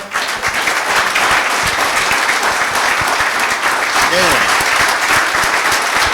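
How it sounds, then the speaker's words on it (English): Loud, sustained applause from an audience in a classroom seminar, dense clapping that fills the whole stretch at a steady level with no pauses. "I request my students such that, the roof should collapse with your claps"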